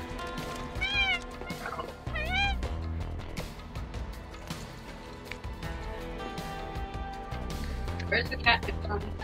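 Cat meowing in Final Fantasy VII Remake, several short rising meows early on and again near the end, clear and close over game music and a talking voice.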